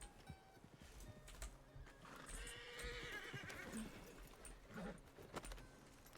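A horse whinnies over steady clip-clopping hooves and faint jangling tack in a Wild West roleplay game, the hoofbeats carrying on at a moderate, even pace throughout.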